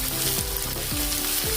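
Onions fry with asafoetida in a pan, giving a loud, close, continuous sizzle with a few soft scraping strokes of a spoon passing through it.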